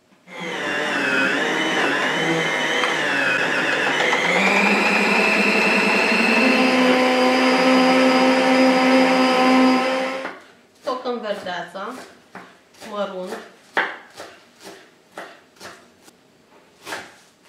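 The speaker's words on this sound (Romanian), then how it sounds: "Vom toca carnea de mânzat împreună cu ceapa pe care am tăiat-o în sferturi." Electric meat mincer grinds veal together with quartered onions, a loud steady motor whine with shifting pitch running continuously for about ten seconds, then stopping to leave scattered clatters and handling sounds.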